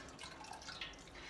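Whey dripping from Havarti cheese curds draining in butter muslin set in a colander, a faint patter of small drips and trickles lasting just over a second.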